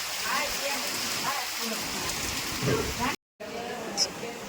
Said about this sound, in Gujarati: અને અત્યારે વરસાદ ફૂલ છે